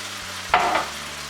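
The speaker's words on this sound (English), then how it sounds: "Now I'll add in the chanas or the chickpeas." Chickpeas dropped into hot oil and tomato masala, a short burst of sizzling that flares up and fades within a second, close and moderately loud with no voices.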